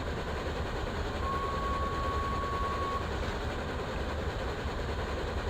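The Flying Scotsman steam locomotive runs fast in Microsoft Train Simulator, giving a steady, loud, dense rumbling roar of rail noise with a faint whistle-like tone drifting through, constant throughout without breaks or talk.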